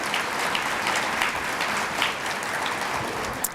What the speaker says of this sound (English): just give him another round of applause